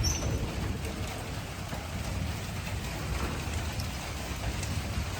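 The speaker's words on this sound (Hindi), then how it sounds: "बारिश बहुत तेज़ लगी है, गरज चमक के साथ बारिश लगी है" Heavy rain falls during a thunderstorm in a village, a dense, steady hiss and patter of drops on surfaces, continuous and moderately loud, with no distinct thunderclap standing out.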